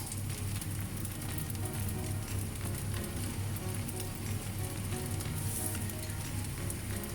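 Soy sauce sizzling steadily in a hot pan while Thai chicken fried rice cooks, a dense continuous crackle with no voices over it.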